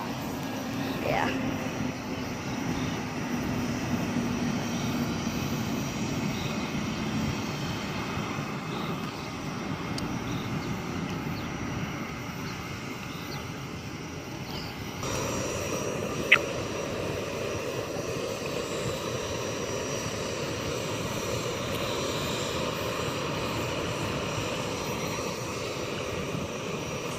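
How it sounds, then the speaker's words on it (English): A United Express Embraer 145 jet airliner rumbles steadily at an airport, a broad continuous engine roar that shifts in tone partway through, with people talking faintly over it. "That's the United Express Embraer 145."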